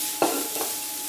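A utensil scrapes and stirs carrots into browned onions sizzling in a pan. Two short, close stirring strokes sound over a steady frying hiss, and no one talks.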